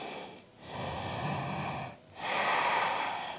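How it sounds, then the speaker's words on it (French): Deep breaths drawn and released during a gentle vinyasa yoga session, two long airy breaths separated by short pauses, close and fairly loud with no talking. "3 respirations."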